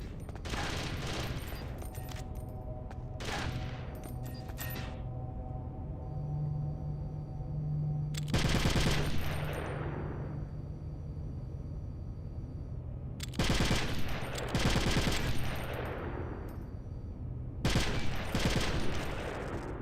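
Gunfire in Metal Gear Solid: The Twin Snakes, repeated loud bursts of automatic fire with ringing echoing tails, separated by lower droning stretches and electronic tones.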